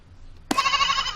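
A sheep in the video game Star Stable gives one sustained bleat that cuts in abruptly midway after a near-silent stretch and holds steady to the end.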